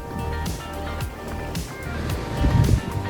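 Sea waves wash onto a rocky coastal shore along a seaside walking trail, rushing and surging in a broad steady roar that swells louder toward the end, with faint background sounds.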